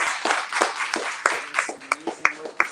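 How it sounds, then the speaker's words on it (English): An audience at an evening poetry reading claps for the poets, scattered hand claps rising and thinning over a few seconds while a voice talks over them. "I'm going to ask you to applaud again for both of our poets."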